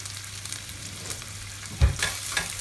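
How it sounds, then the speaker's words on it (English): Onions and capsicum sweat in a frying pan with a soft, steady sizzle. A brief utensil knock and a few stirring scrapes near the end stand out above it, close by, with no voices. "So we're just going to allow those to sweat down and become nice and translucent and cook through"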